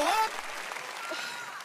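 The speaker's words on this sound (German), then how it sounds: "Sehr gut gemacht. Großer Applaus." A television game-show studio audience claps in a brief burst of applause that fills the room, opening with a short tonal sound effect before the clapping settles into a steady patter.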